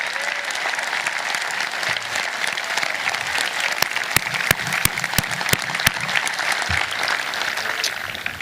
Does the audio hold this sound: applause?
yes